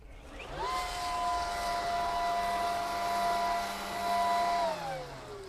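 A Ryobi 40V cordless leaf blower vacuum mulcher spins up and holds a steady whining drone on its low setting, moderately close, then winds down at the end, with no talking.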